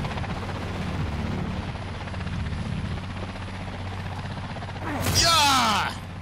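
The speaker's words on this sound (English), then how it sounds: "Oh, hey, a helicopter. That took off from the Surly." In Dead Island 2, a helicopter's rotor thrum builds steadily over low background noise, then swells into a loud close whooshing burst as it lifts off near the end.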